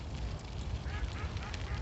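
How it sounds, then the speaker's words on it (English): A goose on the water in a Chicago park gives short honking calls, close and fairly loud, repeated through a low rumble of wind and outdoor noise. "that guy's under the water there, that goose, huh?"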